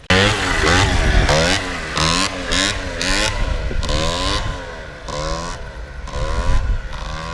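A Yamaha Booster 70cc scooter revs hard during wheelie riding, its small two-stroke engine whining up and down in repeated throttle surges, fairly close and loud, with no talking.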